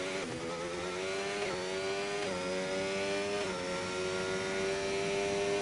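A Haas racing car at Silverstone in a racing game, its high engine whine rising through the revs with quick dips at each gear shift, steady and loud as it comes around the circuit.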